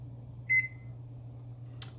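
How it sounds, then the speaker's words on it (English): A single short electronic beep from an oven timer being set, fairly clear against a low steady hum, followed by a faint brief click. "I'm gonna set the timer for 40 minutes."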